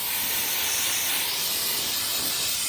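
A continuous, loud aerosol spray of brake cleaner hisses without pause onto semi-truck brake parts, a sharp pressurized rush of liquid close by.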